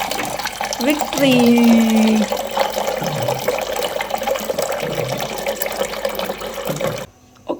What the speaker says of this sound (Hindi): तो डिस्पेंसर से पानी ले लेते हैं हम।